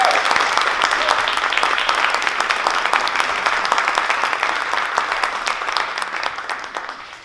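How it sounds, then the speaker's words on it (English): Enthusiastic crowd applause at a fashion runway show greets designer Victor Hou, a dense, continuous clapping that stays strong throughout and eases off slightly near the end. "please, another round of applause for Victor Hugh"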